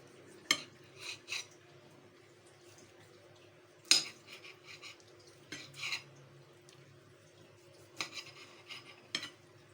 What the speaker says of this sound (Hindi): इसकी कटिंग करने लगे हैं